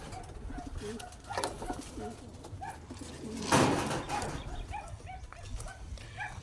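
Young pigeons coo softly as they file into their coop, low throaty calls repeating under a busy backdrop with a dog barking once and someone talking.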